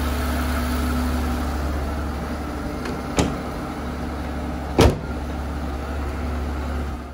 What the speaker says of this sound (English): Close the hood here,